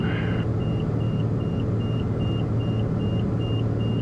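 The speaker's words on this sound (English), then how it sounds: "That incessant beeping really bugs me" A steady, regularly repeating electronic autopilot warning beep in a Piper Malibu cockpit after an autopilot failure, over a constant engine drone and rumble, about two beeps per second, loud and close.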